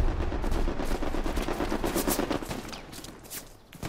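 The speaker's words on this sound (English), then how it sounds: "On my ping, there's a machine gunner mounted on the wall." A mounted machine gun rattles in Hell Let Loose, rapid sustained bursts of gunfire with other shots mixed in, dipping briefly near the end.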